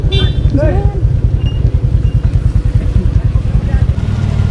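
A motorcycle engine rumbles close by with a steady, throbbing low pulse, buffeted by wind, while people talk over it near the start.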